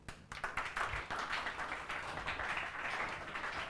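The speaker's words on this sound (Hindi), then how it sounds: "ताली बजाओ इसके लिए।" Classroom students clap together during a physics lecture, producing a steady, dense patter of many hands that stays fairly close and even for a few seconds.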